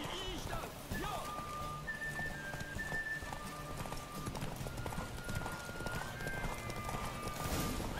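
Horse hooves clip-clop steadily over The Witcher 3: Wild Hunt game music and effects, with voices talking throughout.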